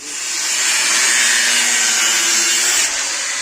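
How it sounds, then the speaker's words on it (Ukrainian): Blades being cut off the spiral of a grain auger give a loud, steady abrasive grinding hiss that holds for a few seconds and then eases slightly, with no talk. "зараз спробуємо відрізати лопатки, щоб осталася спіралька тільки і все"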